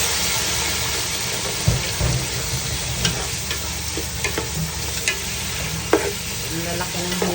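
Chicken pieces sizzle in a pan with onion, loud and steady, with occasional clanks and scrapes as they are stirred.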